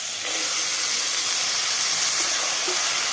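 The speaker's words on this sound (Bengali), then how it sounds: "এবার সিদ্ধ করে রাখা চানা আর মটর দিয়ে দিলাম" Boiled chickpeas and peas hit a hot pan for vegetarian ghugni, giving a loud, steady, hissing sizzle that stays close and continuous throughout with no talking.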